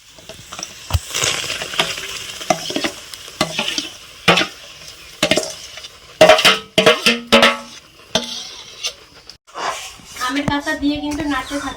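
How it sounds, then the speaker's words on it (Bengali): Raw mango pulp cooking in a wok over a fire, with repeated scraping and stirring strokes and a soft sizzle, while someone talks intermittently over the work. "এখন যে আমের কাজটা বের করলাম এটা এখন কড়াইয়ের মধ্যে দিয়ে দেবো"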